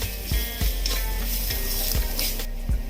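Onion and capsicum with kasuri methi being mixed in a pan for Mumbai-style pav bhaji, a steady sizzle broken by several dull scraping spoon strokes at a regular pace.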